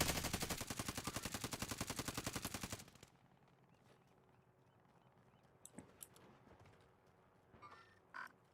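Rapid, loud automatic gunfire from Call of Duty rattles for nearly three seconds, then cuts off, leaving quiet ambience with a few scattered sharp shots and clicks.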